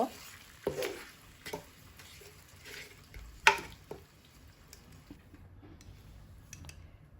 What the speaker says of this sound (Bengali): এক কাপ পেঁয়াজ বাটা কিছুক্ষণ নেড়ে নিতে হবে তিন থেকে চার মিনিট নাড়ব